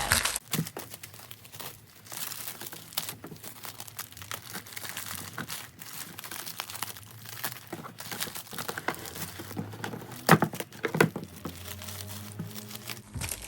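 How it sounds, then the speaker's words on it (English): Aluminum foil crinkles and crumples continuously as it is wrapped around a baked white velvet cake, with rustling bursts and sharper crunches close by and no talking. "so I'm going to use aluminum foil instead"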